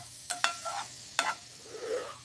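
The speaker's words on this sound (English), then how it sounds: "Melt that butter, saute the garlic." Garlic sautéing in melted butter in a pan, a soft sizzle punctuated by a few sharp scraping stirs of a utensil, close and quiet with no talking.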